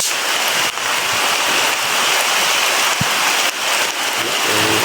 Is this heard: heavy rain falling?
yes